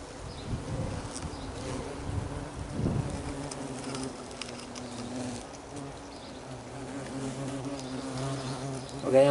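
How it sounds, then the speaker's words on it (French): Asian hornets buzz around a metal structure, a steady insect drone with louder passes close by, continuing without speech. "Le frelon asiatique s'installe où il veut, partout."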